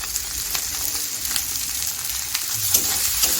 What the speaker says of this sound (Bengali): আরও 1 মিনিট 2 মিনিট মতো ভালো করে কষিয়ে নেবো আমি মশলাটা